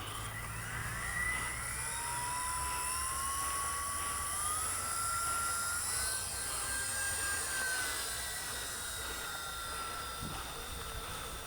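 A V944 radio-controlled model helicopter takes off and flies outdoors, its high whining rotor and motor tone rising and shifting in pitch as it climbs and circles nearby, steady and fairly loud throughout.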